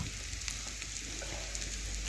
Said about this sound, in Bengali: পেঁয়াজটা লাল লাল করে ভাজা হয়ে যাওয়ার পর আমি দিয়ে দিলাম পরিমাণ মতো হলুদ গুঁড়ো